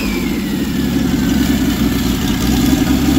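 A newly installed engine in the car OleGirt idles steadily, a close, even low rumble with a constant throb and no voices over it.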